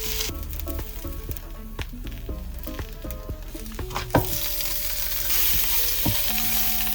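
Spinach wilts in a hot frying pan, crackling and sizzling steadily while a utensil stirs and scrapes it with intermittent taps and clinks, close up and with no talk.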